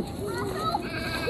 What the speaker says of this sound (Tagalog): Ay, wah, ibang kambing, oh.